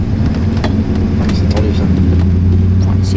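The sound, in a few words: car driving up a mountain road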